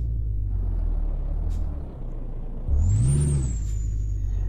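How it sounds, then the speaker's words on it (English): Kenworth W900B truck in Euro Truck Simulator 2, a steady low engine rumble that briefly dips, then swells louder with a rising whine and a high hiss near the end, with no talking. "Keep it short and simple, so we get an idea of how this truck sounds and how it rides."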